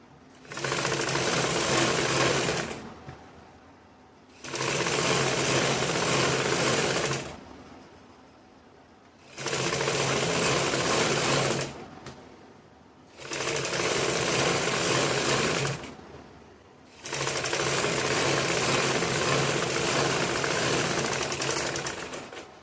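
A sewing machine stitches the back part of a lined blouse in five steady, loud bursts of a few seconds each, separated by short pauses.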